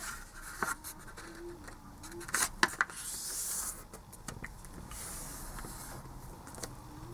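Quiet crisp rustles and sharp creases as a square 14 by 14 cm sheet of paper is folded corner to corner for an origami crab, several short scratchy swipes and taps close up, with no talk.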